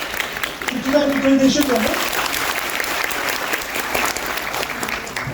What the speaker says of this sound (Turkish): Evrensel diyenler. Alkış.